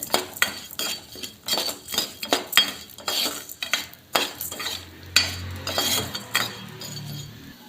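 Dry urad dal and lentils are stirred and roasted in a pan for chutney, a utensil scraping and clinking against the metal in a steady rhythm of sharp strokes, close and fairly loud, with a soft frying hiss toward the end.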